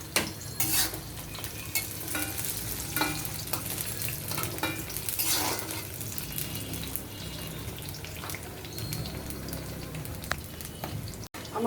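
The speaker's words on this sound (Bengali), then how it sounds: "পেঁয়াজ এবং কাঁচামরিচ দুটাই আমি একসাথে দিয়ে দেব, হালকা করে ভেজে নেব।" Onions and green chillies fry in mustard oil, a steady broadband sizzle with frequent stirring scrapes and a few light utensil clinks, close and continuous throughout, no voices.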